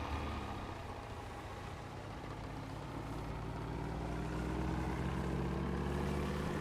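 A motorboat engine in DayZ on the icy Sakhal (Frostline) map runs as a steady, loud low drone that swells slightly toward the end, with no voices over it.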